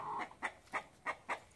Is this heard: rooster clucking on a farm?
yes